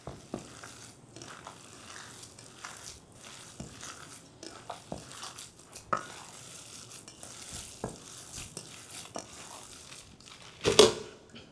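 Hands knead and squeeze a ground beef meatloaf mixture with ketchup and bread, producing soft, irregular squelches and wet squishes up close, with a sharper crinkle near the end.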